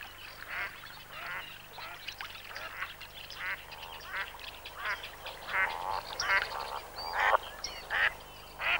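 Canada geese honk repeatedly in a rough, overlapping chorus of nasal calls, moderately near and steady for several seconds with no talking.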